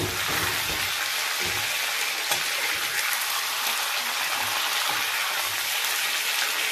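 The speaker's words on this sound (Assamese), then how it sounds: "এতিয়া ইয়াত লাহেকৈ দি মই ভাজিম" Steady, loud sizzling of chicken leg pieces frying in a pan, a continuous crackling hiss with no talking.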